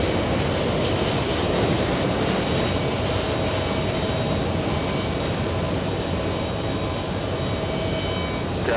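An Embraer E175 regional airliner at JFK airport produces a continuous, fairly loud jet rumble and whine that stays level for the whole stretch, with no voices.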